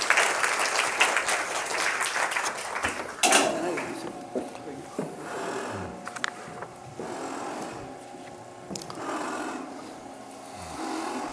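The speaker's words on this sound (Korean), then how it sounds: "큰 박수로 맞이해 주시기 바랍니다." A university lecture audience at Busan University of Foreign Studies claps to welcome lawmaker Park Jae-ho. Dense applause fills the first three seconds, then thins to scattered claps and rustling room noise before a few faint knocks.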